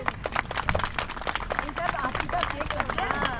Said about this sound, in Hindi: जोरदार ताली बजाइएगा।